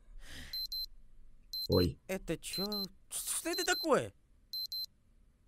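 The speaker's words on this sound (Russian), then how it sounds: "Это мой будильник." Alarm clock ringing in a Friday Night Funkin animation: short repeated electronic beep bursts that start, stop and return, mixed with surprised voices talking over them.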